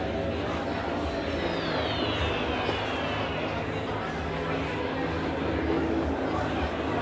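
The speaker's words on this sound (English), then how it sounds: "that's the air raid bomber" An air raid bomber from Battlefield 1943 drones overhead, a continuous loud engine roar with a descending whine, while someone talks over it.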